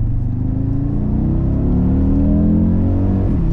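A 2020 Audi RS Q3 with a 400 hp turbocharged engine and S-tronic gearbox, carrying four people, accelerates hard with a loud, rising engine roar and climbing revs that fill the cabin.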